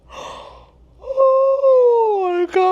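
A long, drawn-out yawn from a hiker on day 109 of an Appalachian Trail thru-hike in Pennsylvania, opening with a breathy intake and swelling into a loud, sustained voiced moan that falls in pitch before a brief catch at the end.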